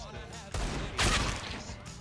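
Gunfire in Counter-Strike rings out as a few sharp, close shots and a louder burst of rapid fire within two seconds, layered with game noise and a voice talking over it.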